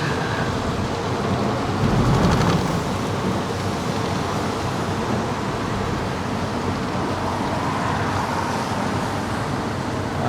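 Heavy rain falls steadily in Hanoi, a dense, loud, continuous wash with a low rumble and road traffic blended underneath, briefly swelling early on.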